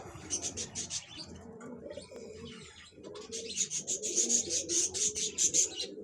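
Parwazi flying pigeons coo in soft repeated bursts at close range, with a layer of small chirps over the low throaty rhythm.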